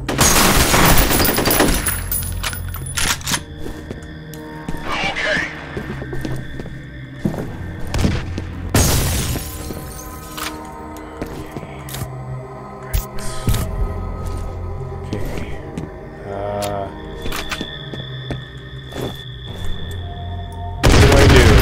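Grenade launcher explosions mixed with gunfire in the first-person shooter F.E.A.R., loud booms and rapid shots stacked densely over a tense game soundtrack, no talk.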